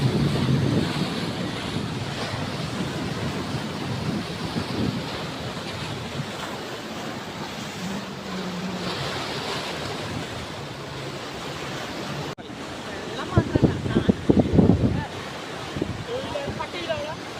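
Surf breaks continuously on Fort Kochi beach, a steady rushing wash of waves with wind noise on the microphone, a louder surge near the end, and faint indistinct voices of beachgoers in the background.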